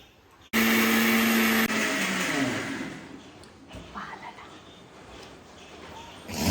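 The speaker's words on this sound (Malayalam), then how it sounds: "ഇതെല്ലാം ഒന്ന് മിക്സിയിലിട്ടിട്ട് അരച്ചെടുക്കണം" A mixer grinder grinding spices bursts on loudly and whirs for about a second, then its motor winds down into quieter clatter and rustling.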